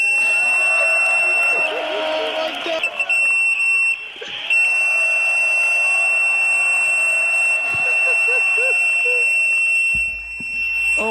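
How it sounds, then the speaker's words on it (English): A fire alarm buzzer blares continuously and loudly through the whole stretch during a comedy night, a steady high tone with sharp pulsing accents, while voices and crowd noise mingle beneath it. "he pulled the fire alarm, guys"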